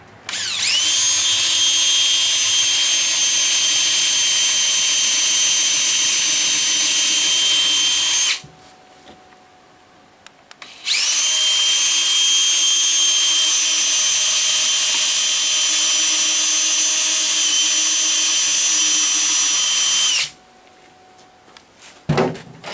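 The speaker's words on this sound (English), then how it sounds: "what I'm going to do is come in here and pre-drill for our long screws that we're going to put in" A power drill pre-drills holes in wood for long screws, two long, loud, steady whining runs of about eight and nine seconds separated by a short pause, followed by a brief final burst.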